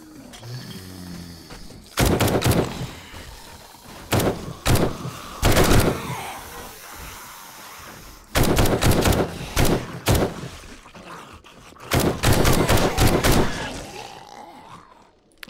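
SMG and assault rifle gunfire in the survival game 7 Days to Die, delivered in several loud, sustained automatic bursts separated by short pauses, with occasional grunts and groans between.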